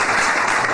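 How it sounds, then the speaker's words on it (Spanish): Studio audience applause and an ovation during a Spanish-language radio interview show, a steady dense wash of clapping that fills the whole moment, loud and close. "Aplausos."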